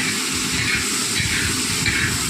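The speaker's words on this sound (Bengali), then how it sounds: "তেলের মধ্যে শুকনো লঙ্কা, তেজপাতা, পাঁচফোড়ন দেওয়া হলো, এবার টমেটোগুলো দিয়ে দেওয়া হলো" Tomatoes hit hot oil already holding dried red chillies, bay leaves and panch phoron, and a loud, steady, close sizzling hiss fills the whole moment.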